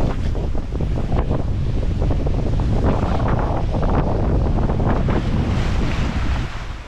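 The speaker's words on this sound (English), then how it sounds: "We're doing something around 7 knots, reaching in 25 knots of wind to try and make good on that weather window." A sailboat reaching at about 7 knots in 25 knots of wind on open sea near Cape Horn, with a steady roar of wind buffeting the microphone and waves rushing and crashing loudly against the hull throughout.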